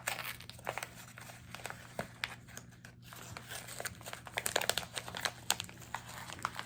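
Crinkly plastic and paper rustling with small tearing sounds, steady and close, a package being opened by hand.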